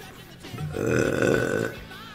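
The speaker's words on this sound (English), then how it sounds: "I don't see why burping is gross to people." A single close, drawn-out burp rising and fading over about a second, heard alone with a faint voice just before it.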